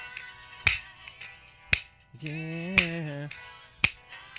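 Sharp finger snaps on an isolated multitrack stem of a song, four in steady rhythm roughly a second apart, with a brief sung tone between two of them and a short spoken word.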